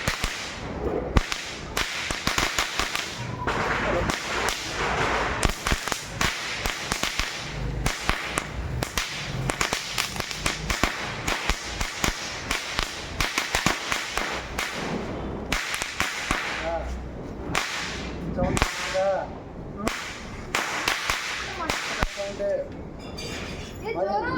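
A long string of saravedi firecrackers bursts in a dense, rapid crackle of sharp pops that runs the full length, loud and close, with voices talking over it now and then.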